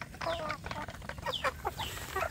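Several free-range village chickens cluck and squawk nearby while being fed, in short, irregular calls over a quiet background.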